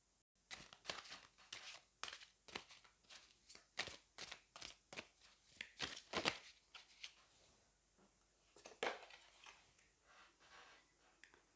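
Oracle cards shuffled by hand in a quick run of about twenty crisp riffling bursts, close and rhythmic, then slowing to a few scattered shuffles with no talking.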